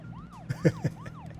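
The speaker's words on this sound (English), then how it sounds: "when you hold down the siren in this game, it activates York's stamina?" A car siren in the video game Deadly Premonition wails with rising and falling sweeps, repeating steadily, while a few short low thumps sound beneath it.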